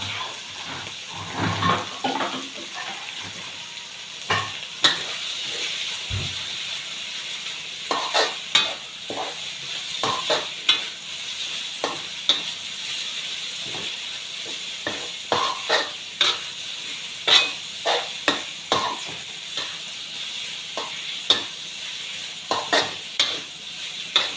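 Holy basil stir-fry with fresh shrimp and pork sizzles in a hot pan while a spatula scrapes and clacks against it in steady irregular strokes, close and busy throughout, with no talking.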